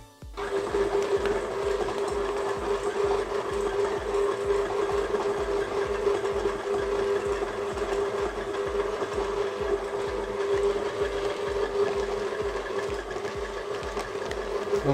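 Kitchen mixer blending butter, honey and sugar for speculoos dough, a steady close mechanical whir with a fast rhythmic churning pulse running throughout.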